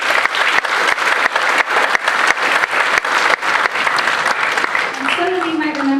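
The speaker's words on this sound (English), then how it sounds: "So if we can give her a round of applause." An audience at a school orchestra concert claps loudly and densely for several seconds, with a few sharp individual claps standing out, before the applause thins and a voice starts speaking over the tail.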